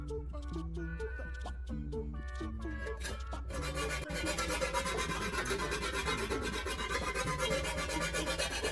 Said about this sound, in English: use a file to remove the burrs and smooth all the surrounding edges